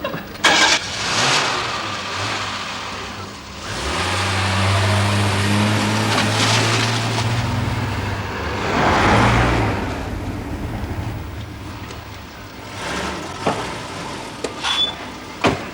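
A car driven at night, its mid-pitched engine running steadily with a low hum and gentle rises in revs, heard from inside the cabin over about fifteen seconds, with no talk.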